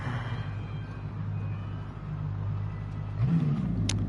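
A Ferrari race car engine in the Gran Turismo 7 video game drones steadily at a low pitch, then swells as the car accelerates near the end.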